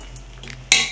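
Two eggs being placed into a cooking pot of egg pulao: faint small taps, then one sharp metallic clink of the pot near the end, close and without talk.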